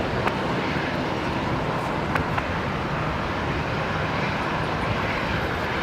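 A Qatar Airways flight 635 airliner lands at Brisbane Airport, a steady broad roar that holds loud and even throughout, with no voices.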